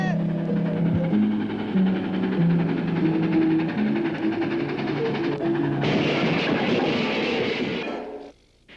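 A runaway cartoon train rolls and rattles along the track, a continuous loud mechanical clatter with tonal whistle-like notes, swelling into a harsh crashing burst near the end before cutting off abruptly.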